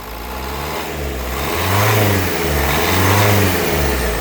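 A 2014 Nissan Terrano XV engine revs up twice in rhythmic surges over a steady idle, close and fairly loud, with no talking.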